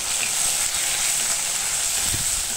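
Garlic frying in oil in a pan for a dry red-chilli chicken curry gives a steady, close, bright sizzle and hiss throughout, with no talking.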